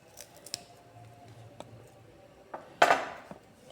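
Scissors snip fresh coriander leaves in a kitchen, several quiet, crisp cuts spaced irregularly, with one louder closing snap near the end, no talking.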